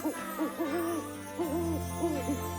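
A cartoon owl in a Hindi animated series hoots in a series of wavering, sing-song calls, two bursts separated by a short gap, clear and close with no speech over it.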